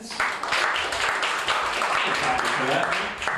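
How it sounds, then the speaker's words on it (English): Audience applause at a live improv comedy show, a sustained wash of many hands clapping with some voices and cheers mixed in, steady throughout and tapering slightly at the end. "You can applaud that."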